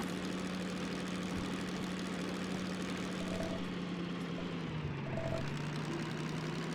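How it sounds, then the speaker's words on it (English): A video game vehicle engine drones steadily low with a rough, strained grinding quality from shifting without cutting the throttle, continuous throughout with no talking. "you forgot to kill the throttle, so now the engine's grinding at you"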